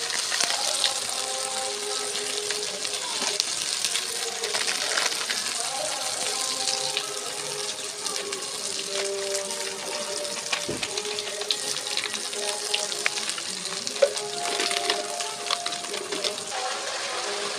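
Spice paste with chili powder sizzles in a pan after a splash of water is added while cooking a meat curry, giving a steady, dense hissing crackle that continues without pause.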